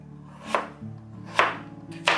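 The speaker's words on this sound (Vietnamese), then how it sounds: "khoai môn thì mình sẽ cắt sợi mỏng nhỏ như thế này để khi mình chiên thì nó sẽ giòn á" A knife chops through taro on a cutting board, slicing it into thin strips: three crisp, separate strokes spaced roughly evenly apart, close and clear with no talking.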